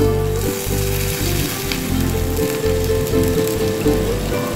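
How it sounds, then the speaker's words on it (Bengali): Water goes into a pan of frying okra. A loud, close, crackling sizzle runs throughout, with a pulsing mechanical hum underneath. "ঢেলে দিচ্ছি জল"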